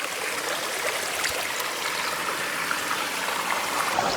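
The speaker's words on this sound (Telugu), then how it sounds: "చూడండి, వాటర్ అయితే ఇలా బురద వెళ్ళిపోతుంది" Muddy floodwater running through a farm field in the Araku tribal area, a steady close trickling and gurgling stream with no pauses and no voices.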